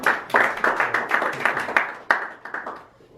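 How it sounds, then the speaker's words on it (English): An audience at a Toastmasters club meeting gives a short burst of hand clapping for an award winner. The claps are brisk and close, then taper off and die away within about three seconds. "Let's give him a big round of applause."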